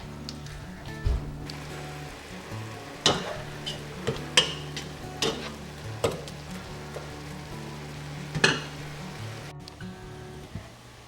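Food sizzles steadily in a pan with a soft frying hiss, punctuated by several sharp scrapes and clacks of a utensil stirring.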